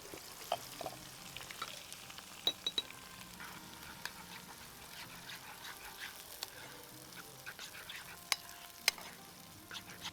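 Spring onions frying in a pan of hot oil for a chicken rice dish, a steady soft sizzle with scattered pops and faint clinks throughout, no talking.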